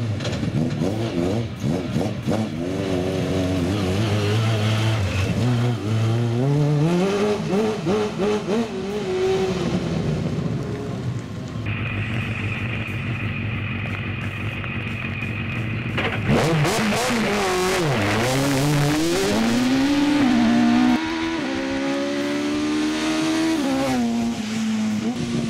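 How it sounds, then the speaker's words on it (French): Race cars at a hill climb test day near Vignieu start and rev hard nearby, engines climbing through gears with rising and falling pitch, a pause between passes, then another car accelerating loudly away. "dès que les 5 premières voitures sont en pré-grille, on démarre"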